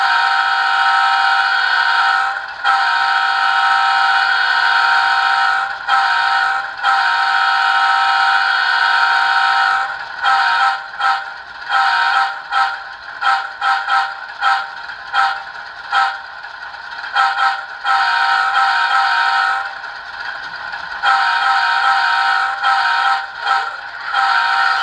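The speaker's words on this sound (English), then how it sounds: "I'm going to play it through the horn button, which is the K5XL reverse number 2, the standard" An ESU LokSound decoder in an Intermountain ES44AC model locomotive plays a K5XL GEVO horn in several loud, sustained blasts, some long and some cut into short stuttering bursts with brief gaps between them.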